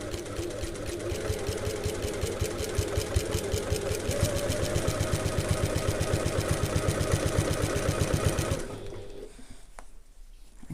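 A sewing machine stitches an overlay onto a handbag with a fast, steady mechanical chatter of repeating needle strokes that runs for about eight seconds and then stops, leaving near quiet.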